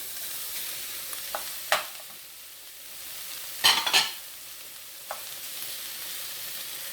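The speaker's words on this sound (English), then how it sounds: "And now I'm going to add my sausage." Steady sizzling of sausage frying in a pan with peppers, with a few scraping stirs and clinks of a utensil against the pan.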